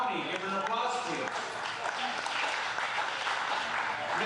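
A fundraiser crowd gives applause for a candidate for Will County Recorder of Deeds, a thick, continuous burst of clapping, with a few voices mixed in.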